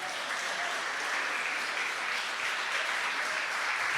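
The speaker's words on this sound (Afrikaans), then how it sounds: "Kom gee vir hulle nog lekker hande klap." Steady, dense applause from a sizeable crowd continues evenly throughout, full and sustained without pauses.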